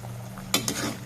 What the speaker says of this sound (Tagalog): Kumukulo na mga ka-idol.